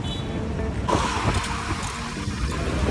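A car engine runs steadily as a vehicle arrives near a hotel in Goa, a broad continuous rumble and whoosh with a brief surge partway through, fairly loud and close, no talking.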